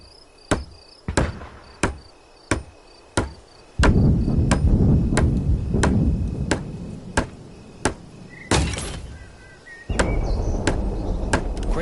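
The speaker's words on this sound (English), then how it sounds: "Use the hammer in your loadout to finish constructing it." A hammer builds a barricade in the Vietnam-era war game Hell Let Loose: Vietnam. It strikes in a steady series of sharp knocks, first over quiet and then over a loud, rumbling battlefield background.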